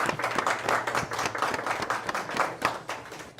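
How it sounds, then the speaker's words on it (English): A small group claps together at the close of a veterans' podcast, the individual hand claps uneven and overlapping in a short, lively burst of applause heard close by. "I think you deserve a round of applause."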